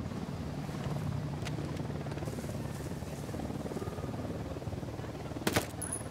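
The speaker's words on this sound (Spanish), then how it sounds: "Hombre, un helicóptero de la unidad." A unit helicopter in Ghost Recon Wildlands, steady rotor drone filling the scene with faint distant gunfire and a sharp crack near the end.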